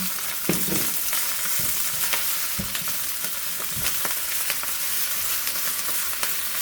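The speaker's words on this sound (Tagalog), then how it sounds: "igisa na po natin yung bawang at saka luya" Garlic and ginger sauté in a hot pan alongside previously fried marinated beef for a gai lan stir-fry, sizzling steadily with repeated scraping stirs and clinks of a utensil, close and continuous.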